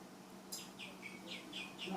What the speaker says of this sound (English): I love that bird. Isn't that pretty?